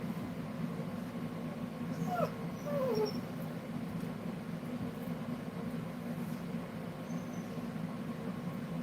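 A dog named Roxy whines indoors, giving a few short, thin whimpers close by over a steady low background hum.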